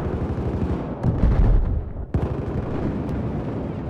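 Gunfire rattles through a Battlefield 4 Siege of Shanghai conquest match, with rapid bursts and a couple of heavy blasts around the middle, fairly loud and close, without speech.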